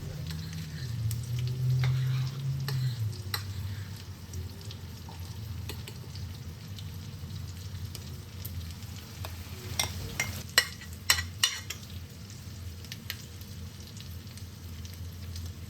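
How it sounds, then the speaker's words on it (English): Bread semolina roasts in a pan as it is stirred, a low continuous hiss with scattered scrapes and clicks that grow more frequent toward the end, with no speech. "Now in the same pan, add the bread semolina that we had prepared for the pizza base"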